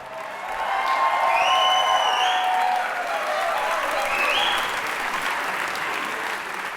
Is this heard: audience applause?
yes